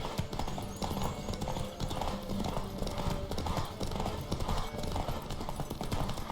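Rapid, continuous clip-clop of galloping horse hooves in the video game The Witcher 3, loud and close, rolling on steadily under a busy wash of background noise.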